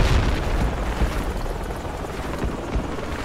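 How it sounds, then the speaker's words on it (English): A military helicopter in the video game Project Reality on the Kashan Desert map produces a steady, rumbling rotor drone that fills the air continuously with faint distant thumps. "See what that helicopter's up to."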